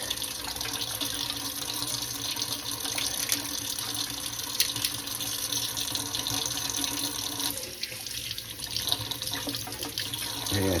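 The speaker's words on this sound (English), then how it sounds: "Just give that a quick rinse." Cold water runs steadily from a kitchen tap over a lobster tail being rinsed, a continuous close splashing hiss with no break for about ten seconds.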